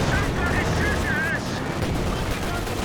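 StuG E assault gun firing in the Company of Heroes 2 strategy game, heard inside a dense, continuous din of battle gunfire and explosions with a commentator's voice layered over it.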